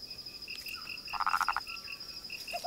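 Frogs croak nearby in short repeated calls, with one rapid pulsing burst of croaks in the middle against a steady high chirping background.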